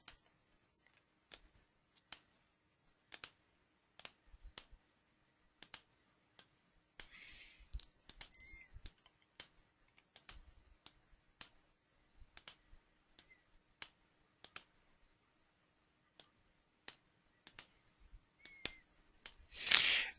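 Sharp, isolated computer mouse clicks sound in a quiet room while working in embroidery digitizing software, arriving in an irregular run of single and double clicks with a faint soft rustle in the middle and a louder burst at the end.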